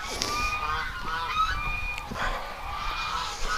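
Birds call repeatedly, with goose-like honks and squawks scattered over a steady outdoor rumble at moderate distance.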